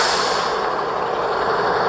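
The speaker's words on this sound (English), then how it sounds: "That truck's gonna be really loud." Loud truck passing close by, a dense broadband roar of engine and road noise filling the whole moment at steady high volume, with no voices heard.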